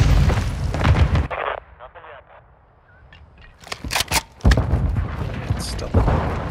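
A grenade detonates in Call of Duty, giving a heavy, loud boom at the start, then a lull and a burst of gunfire and blasts. Soldiers shout over the noise.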